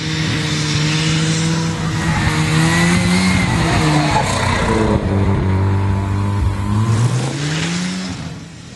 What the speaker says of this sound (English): Hanko is known for competing with a Mazda RX-7 rotary engine, which gains very high revs.